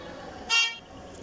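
A single short car horn toot sounds in a car-selling simulator game, a brief bright beep against low background hum.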